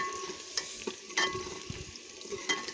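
Onions, tomatoes, green chilies and chicken brown in a smoking pan for a bottle gourd and mutton dish, a quiet sizzle broken by several sharp scrapes and clinks of stirring.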